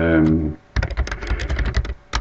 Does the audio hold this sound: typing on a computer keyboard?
yes